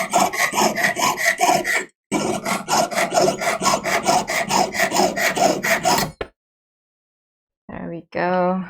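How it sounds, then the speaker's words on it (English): Rapid rhythmic rasping of a hand file shaping a jewelry piece into a circle, close and loud in two long bursts of quick back-and-forth strokes, then silence before a voice speaks briefly. "Now I will just file this into a more circular shape"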